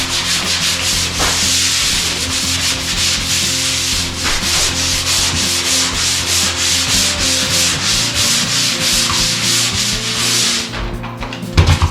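Drywall joint compound sanded by hand with sandpaper, a steady, close, continuous scratchy rubbing in rhythmic back-and-forth strokes, loud and unbroken, with no talking.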